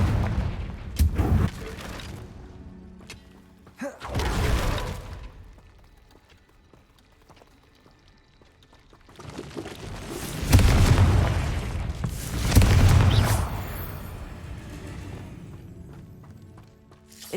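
Confringo explosive spells go off in Hogwarts Legacy as a series of heavy booming blasts. Two separate explosions come first, then a longer, louder cluster of blasts with a rumbling decay, and quieter stretches lie between them.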